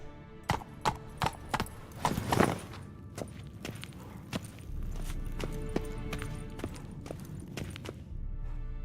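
Roach the horse gallops in The Witcher 3 as a series of sharp, evenly spaced hoof clops, loud in the opening seconds. A softer, steady game ambience fills the rest with occasional fainter hoofbeats.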